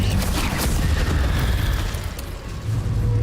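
Fire spell Incendio cast in the Hogwarts Legacy video game, a dense, loud, rumbling burst of booming noise that roars steadily for about three seconds and dips briefly before swelling again.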